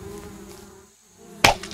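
Bees buzz around a bee tree in the video game Adventure Craft, a steady insect drone that ends in a sudden loud burst near the close.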